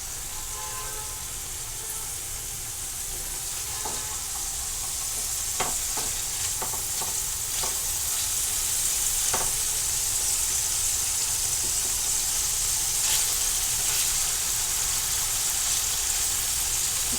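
Paneer cubes shallow fry in a pan for palak paneer, giving a loud, steady sizzle with occasional crisp pops and spatula scrapes, free of talk.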